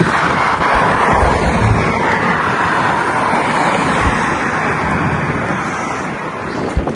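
Strong, cold wind gusting along the seaside in Baku, a steady loud roar of broadband rushing noise that buffets the microphone throughout, with a faint low rumble of traffic beneath.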